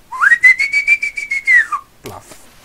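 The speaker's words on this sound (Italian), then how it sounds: "Chissà come si sentono i fischi nel microfono" A person whistles into a microphone, holding one loud, steady tone that rises at the start and falls away at the end. A breathy rustle follows. The setting is a Minecraft modded gameplay session.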